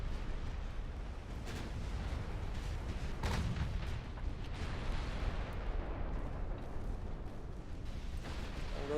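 A naval battle in a war video game: continuous booming artillery, explosions and gunfire, with a big blast around the middle as an enemy destroyer goes down, loud and dense throughout.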